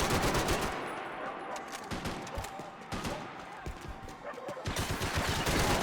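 Rapid bursts of gunfire from blind firing in the shooter Max Payne 3, with dense, irregular shots clustered close together, continuous and fairly loud, with a brief lull near the middle.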